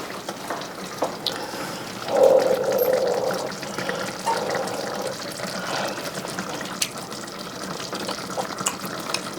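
Tap water runs steadily into a sink as a spoon is rinsed, a continuous close splashing hiss with a brief louder gush where the spoon meets the stream.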